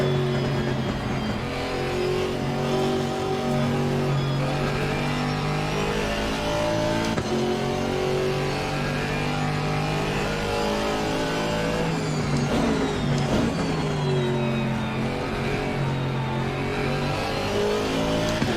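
A GT4 race car engine in a sim racing game at Barcelona drones steadily throughout, with harmonic tones rising and falling as it revs through gears, loud and continuous with no talk.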